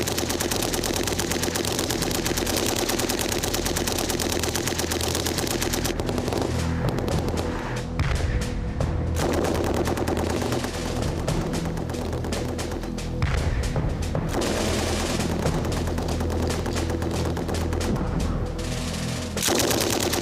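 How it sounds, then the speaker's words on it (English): Mortar rounds and sustained machine gun fire in a military battle, forming a dense, loud, continuous barrage of rapid automatic bursts with heavier booms mixed in, filling the whole stretch without letup. "Devastating combination of mortar and sustained machine gun fire means the enemy are stopped in their tracks"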